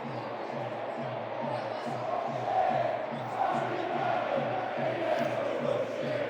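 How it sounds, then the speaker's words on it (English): Football crowd at a Sheffield Wednesday versus Millwall match applauding a former player in the tenth minute, a broad, distant roar of clapping and chanting from the stands that swells and holds steady. "They're applauding him with a suitable riposte from the Millwall end."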